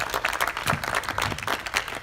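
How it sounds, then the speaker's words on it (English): An audience applauds at a meeting, a steady wash of many hands clapping together, dense and even throughout with no voices over it. "so I would like you to applaud her very,"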